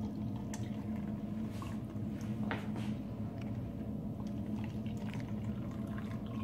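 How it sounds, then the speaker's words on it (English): Hot water poured into two beakers during a thermodynamics class exercise, a steady liquid rush under a low background hum that carries on through the whole stretch without pause. "the event leader is going to come to you with some hot water, and we're going to pour in to two beakers"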